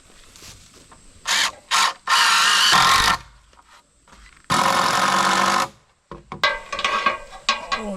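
Screws driven into a wooden treehouse platform in the woods, heard as several loud, sustained bursts of power-driver whirring with short gaps and some clunking handling noise between them.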